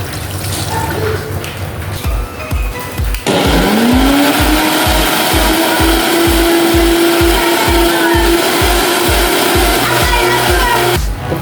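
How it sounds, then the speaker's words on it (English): A blender roars loudly and steadily, its motor whirring with a choppy, churning rhythm as it chops leaves with water, starting abruptly and running continuously. "we're gonna blend some of the leaves for the third glass"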